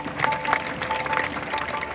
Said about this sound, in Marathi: त्यांच्याकरता एकदा जोरदार टाळ्या